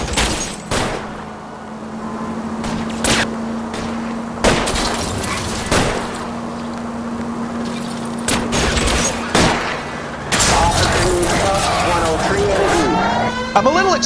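Rapid gunshots crack out during an L.A. Noire car chase, loud and close over a steady engine drone, with brief voices near the end.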